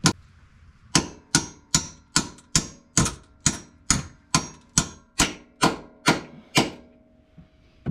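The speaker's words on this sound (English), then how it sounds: "Take my ratcheting hammer." A ratcheting hammer strikes about a dozen times in a steady rhythm while installing a lower trailing arm on a Dodge Charger Scat Pack, each hit a sharp metallic clack with a quick ring, close and loud.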